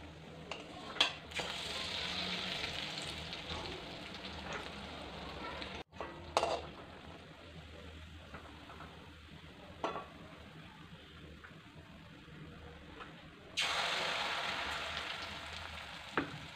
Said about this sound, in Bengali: এবার এগুলো ভাজি